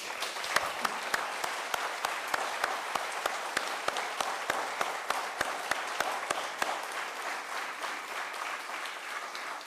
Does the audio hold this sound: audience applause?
yes